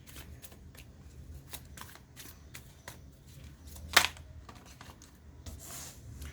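Tarot cards are shuffled quietly and continuously, a soft papery riffle of light flicks with one sharper snap partway through, and no talking.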